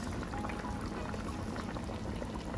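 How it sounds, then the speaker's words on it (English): Cooked butter beans pour into a pot of Jamaican oxtail, giving a faint, steady wet splashing and bubbling texture that runs evenly throughout without talk. "So you just pour it in."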